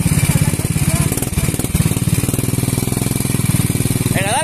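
Motorcycle engine revving steadily as a novice rider opens the throttle, a loud continuous mid-pitched drone with pulsing rhythm, heard up close under a person speaking.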